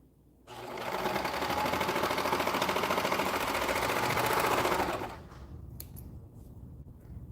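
Steady sewing machine stitching runs loud and continuous for about four seconds while cloth diapers are sewn up, then stops, leaving quieter handling noise and a few light clicks.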